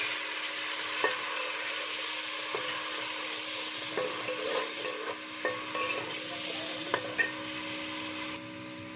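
Tomatoes and spices for jeera pulao frying in a pot, with a steady soft sizzle and a few light spoon knocks and scrapes at close range, fairly quiet throughout.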